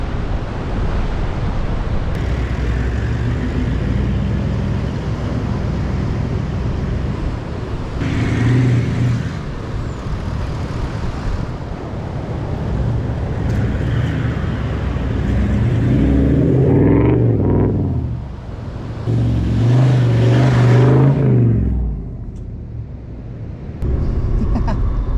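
A 4WD makes a three-point turn and drives along a beach track, its engine rumbling steadily under strong wind noise, with surf in the background and louder surges of revving and tyre sound near the end.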